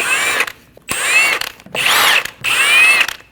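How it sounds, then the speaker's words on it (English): A power tool with a 17mm socket spins lug studs off the rear wheel of a 2012-2022 Volkswagen Passat. Four close, loud whirring bursts are separated by short pauses, with no talking. "Using a 17mm socket, remove the 5 lug studs."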